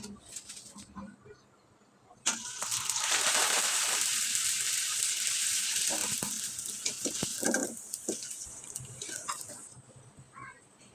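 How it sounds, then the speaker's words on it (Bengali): Homemade wheat-flour chips drop into hot oil, setting off a sudden loud bubbling sizzle that holds for several seconds, then thins into scattered crackles and quieter hissing, close by. "এবার চলুন কয়েকটা চিপস আমি ভেজে আপনাদের দেখিয়ে দিচ্ছি"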